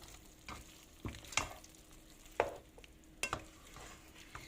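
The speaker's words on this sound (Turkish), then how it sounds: "Ve şöyle dağılmaması için hafif hafif bunu karıştırıyorum." Okra gently stirred in a pot with chicken, a few soft spoon scrapes and clinks spaced out over a faint sizzle, close and quiet.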